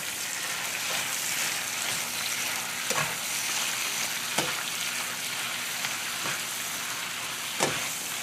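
Spinach frying in bacon grease while being stirred, a dense steady sizzle throughout with occasional soft scrapes and taps of the utensil, close and without speech.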